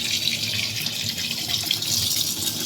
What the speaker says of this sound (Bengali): মাছের ডিম পরিষ্কার করে ধুয়ে নেব